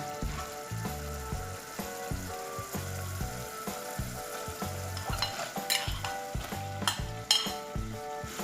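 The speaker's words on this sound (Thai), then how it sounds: "เสร็จแล้วก็ใส่เนื้อหมูลงไปผัดค่ะ" Pork stir-frying in green curry paste and coconut milk, giving a continuous close sizzle with rhythmic scraping and stirring of a spatula against the pan and a few metallic clinks.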